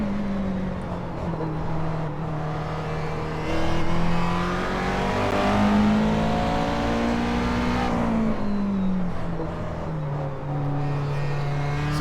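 Race car engines drone and rev together during an iRacing Grand Am endurance race at Watkins Glen, a steady close engine tone rising and falling in pitch as cars run side by side, with no talk over it.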